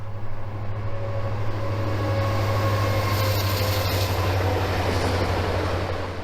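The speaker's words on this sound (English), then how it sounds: "just on the other side of those bushes is a train coming" A train rolls past just beyond a screen of bushes near a former camp where Japanese Americans were brought in by rail: a steady, loud, low rumble with faint wheel clatter that holds for several seconds, with no talk.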